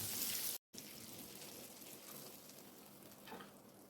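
Butter melts in a pan for a potato and spring onion filling, giving a steady, close hiss of frying that runs the whole time, broken only by a very short silent gap near the start.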